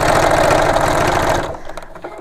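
Sewing machine stitching a bag, a steady, loud mechanical whir with a rapid rhythmic pulse that runs for over a second, then stops and leaves quieter clicks and handling noise.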